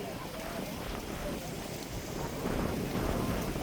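Waves breaking against the seaside promenade at Azuela Cove in Davao City, a steady broad wash of surf with wind, fairly loud and continuous, swelling slightly toward the end.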